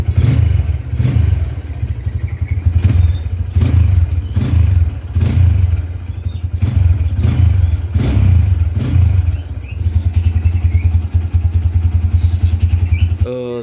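A 2013 Tiger Evo motorcycle idling close by, its engine blipped in a series of short throttle revs with a steady low thumping beat between them, and no talk over it.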